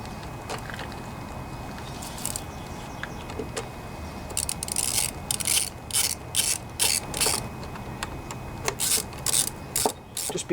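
Clicking ratchet wrench tightening bolts on the carburetor of a John Deere 14PB lawnmower left outside too long, a faint background ticking that turns into louder, rhythmic bursts of ratcheting strokes close by in the second half.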